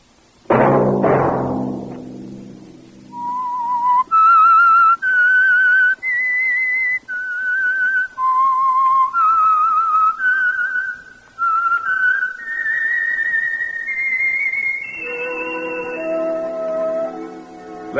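A lone whistler carries the eerie theme signal of The Whistler radio drama, a clear, loud melody of sustained and gliding notes following a brief burst of orchestral sound at the start.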